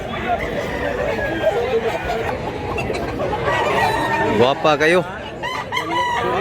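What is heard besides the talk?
rooster crowing and clucking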